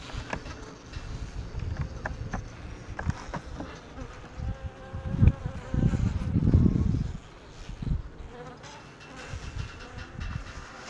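Bees buzz close by in a dense, continuous drone, with louder swells as individual insects pass near the microphone. No voices are heard.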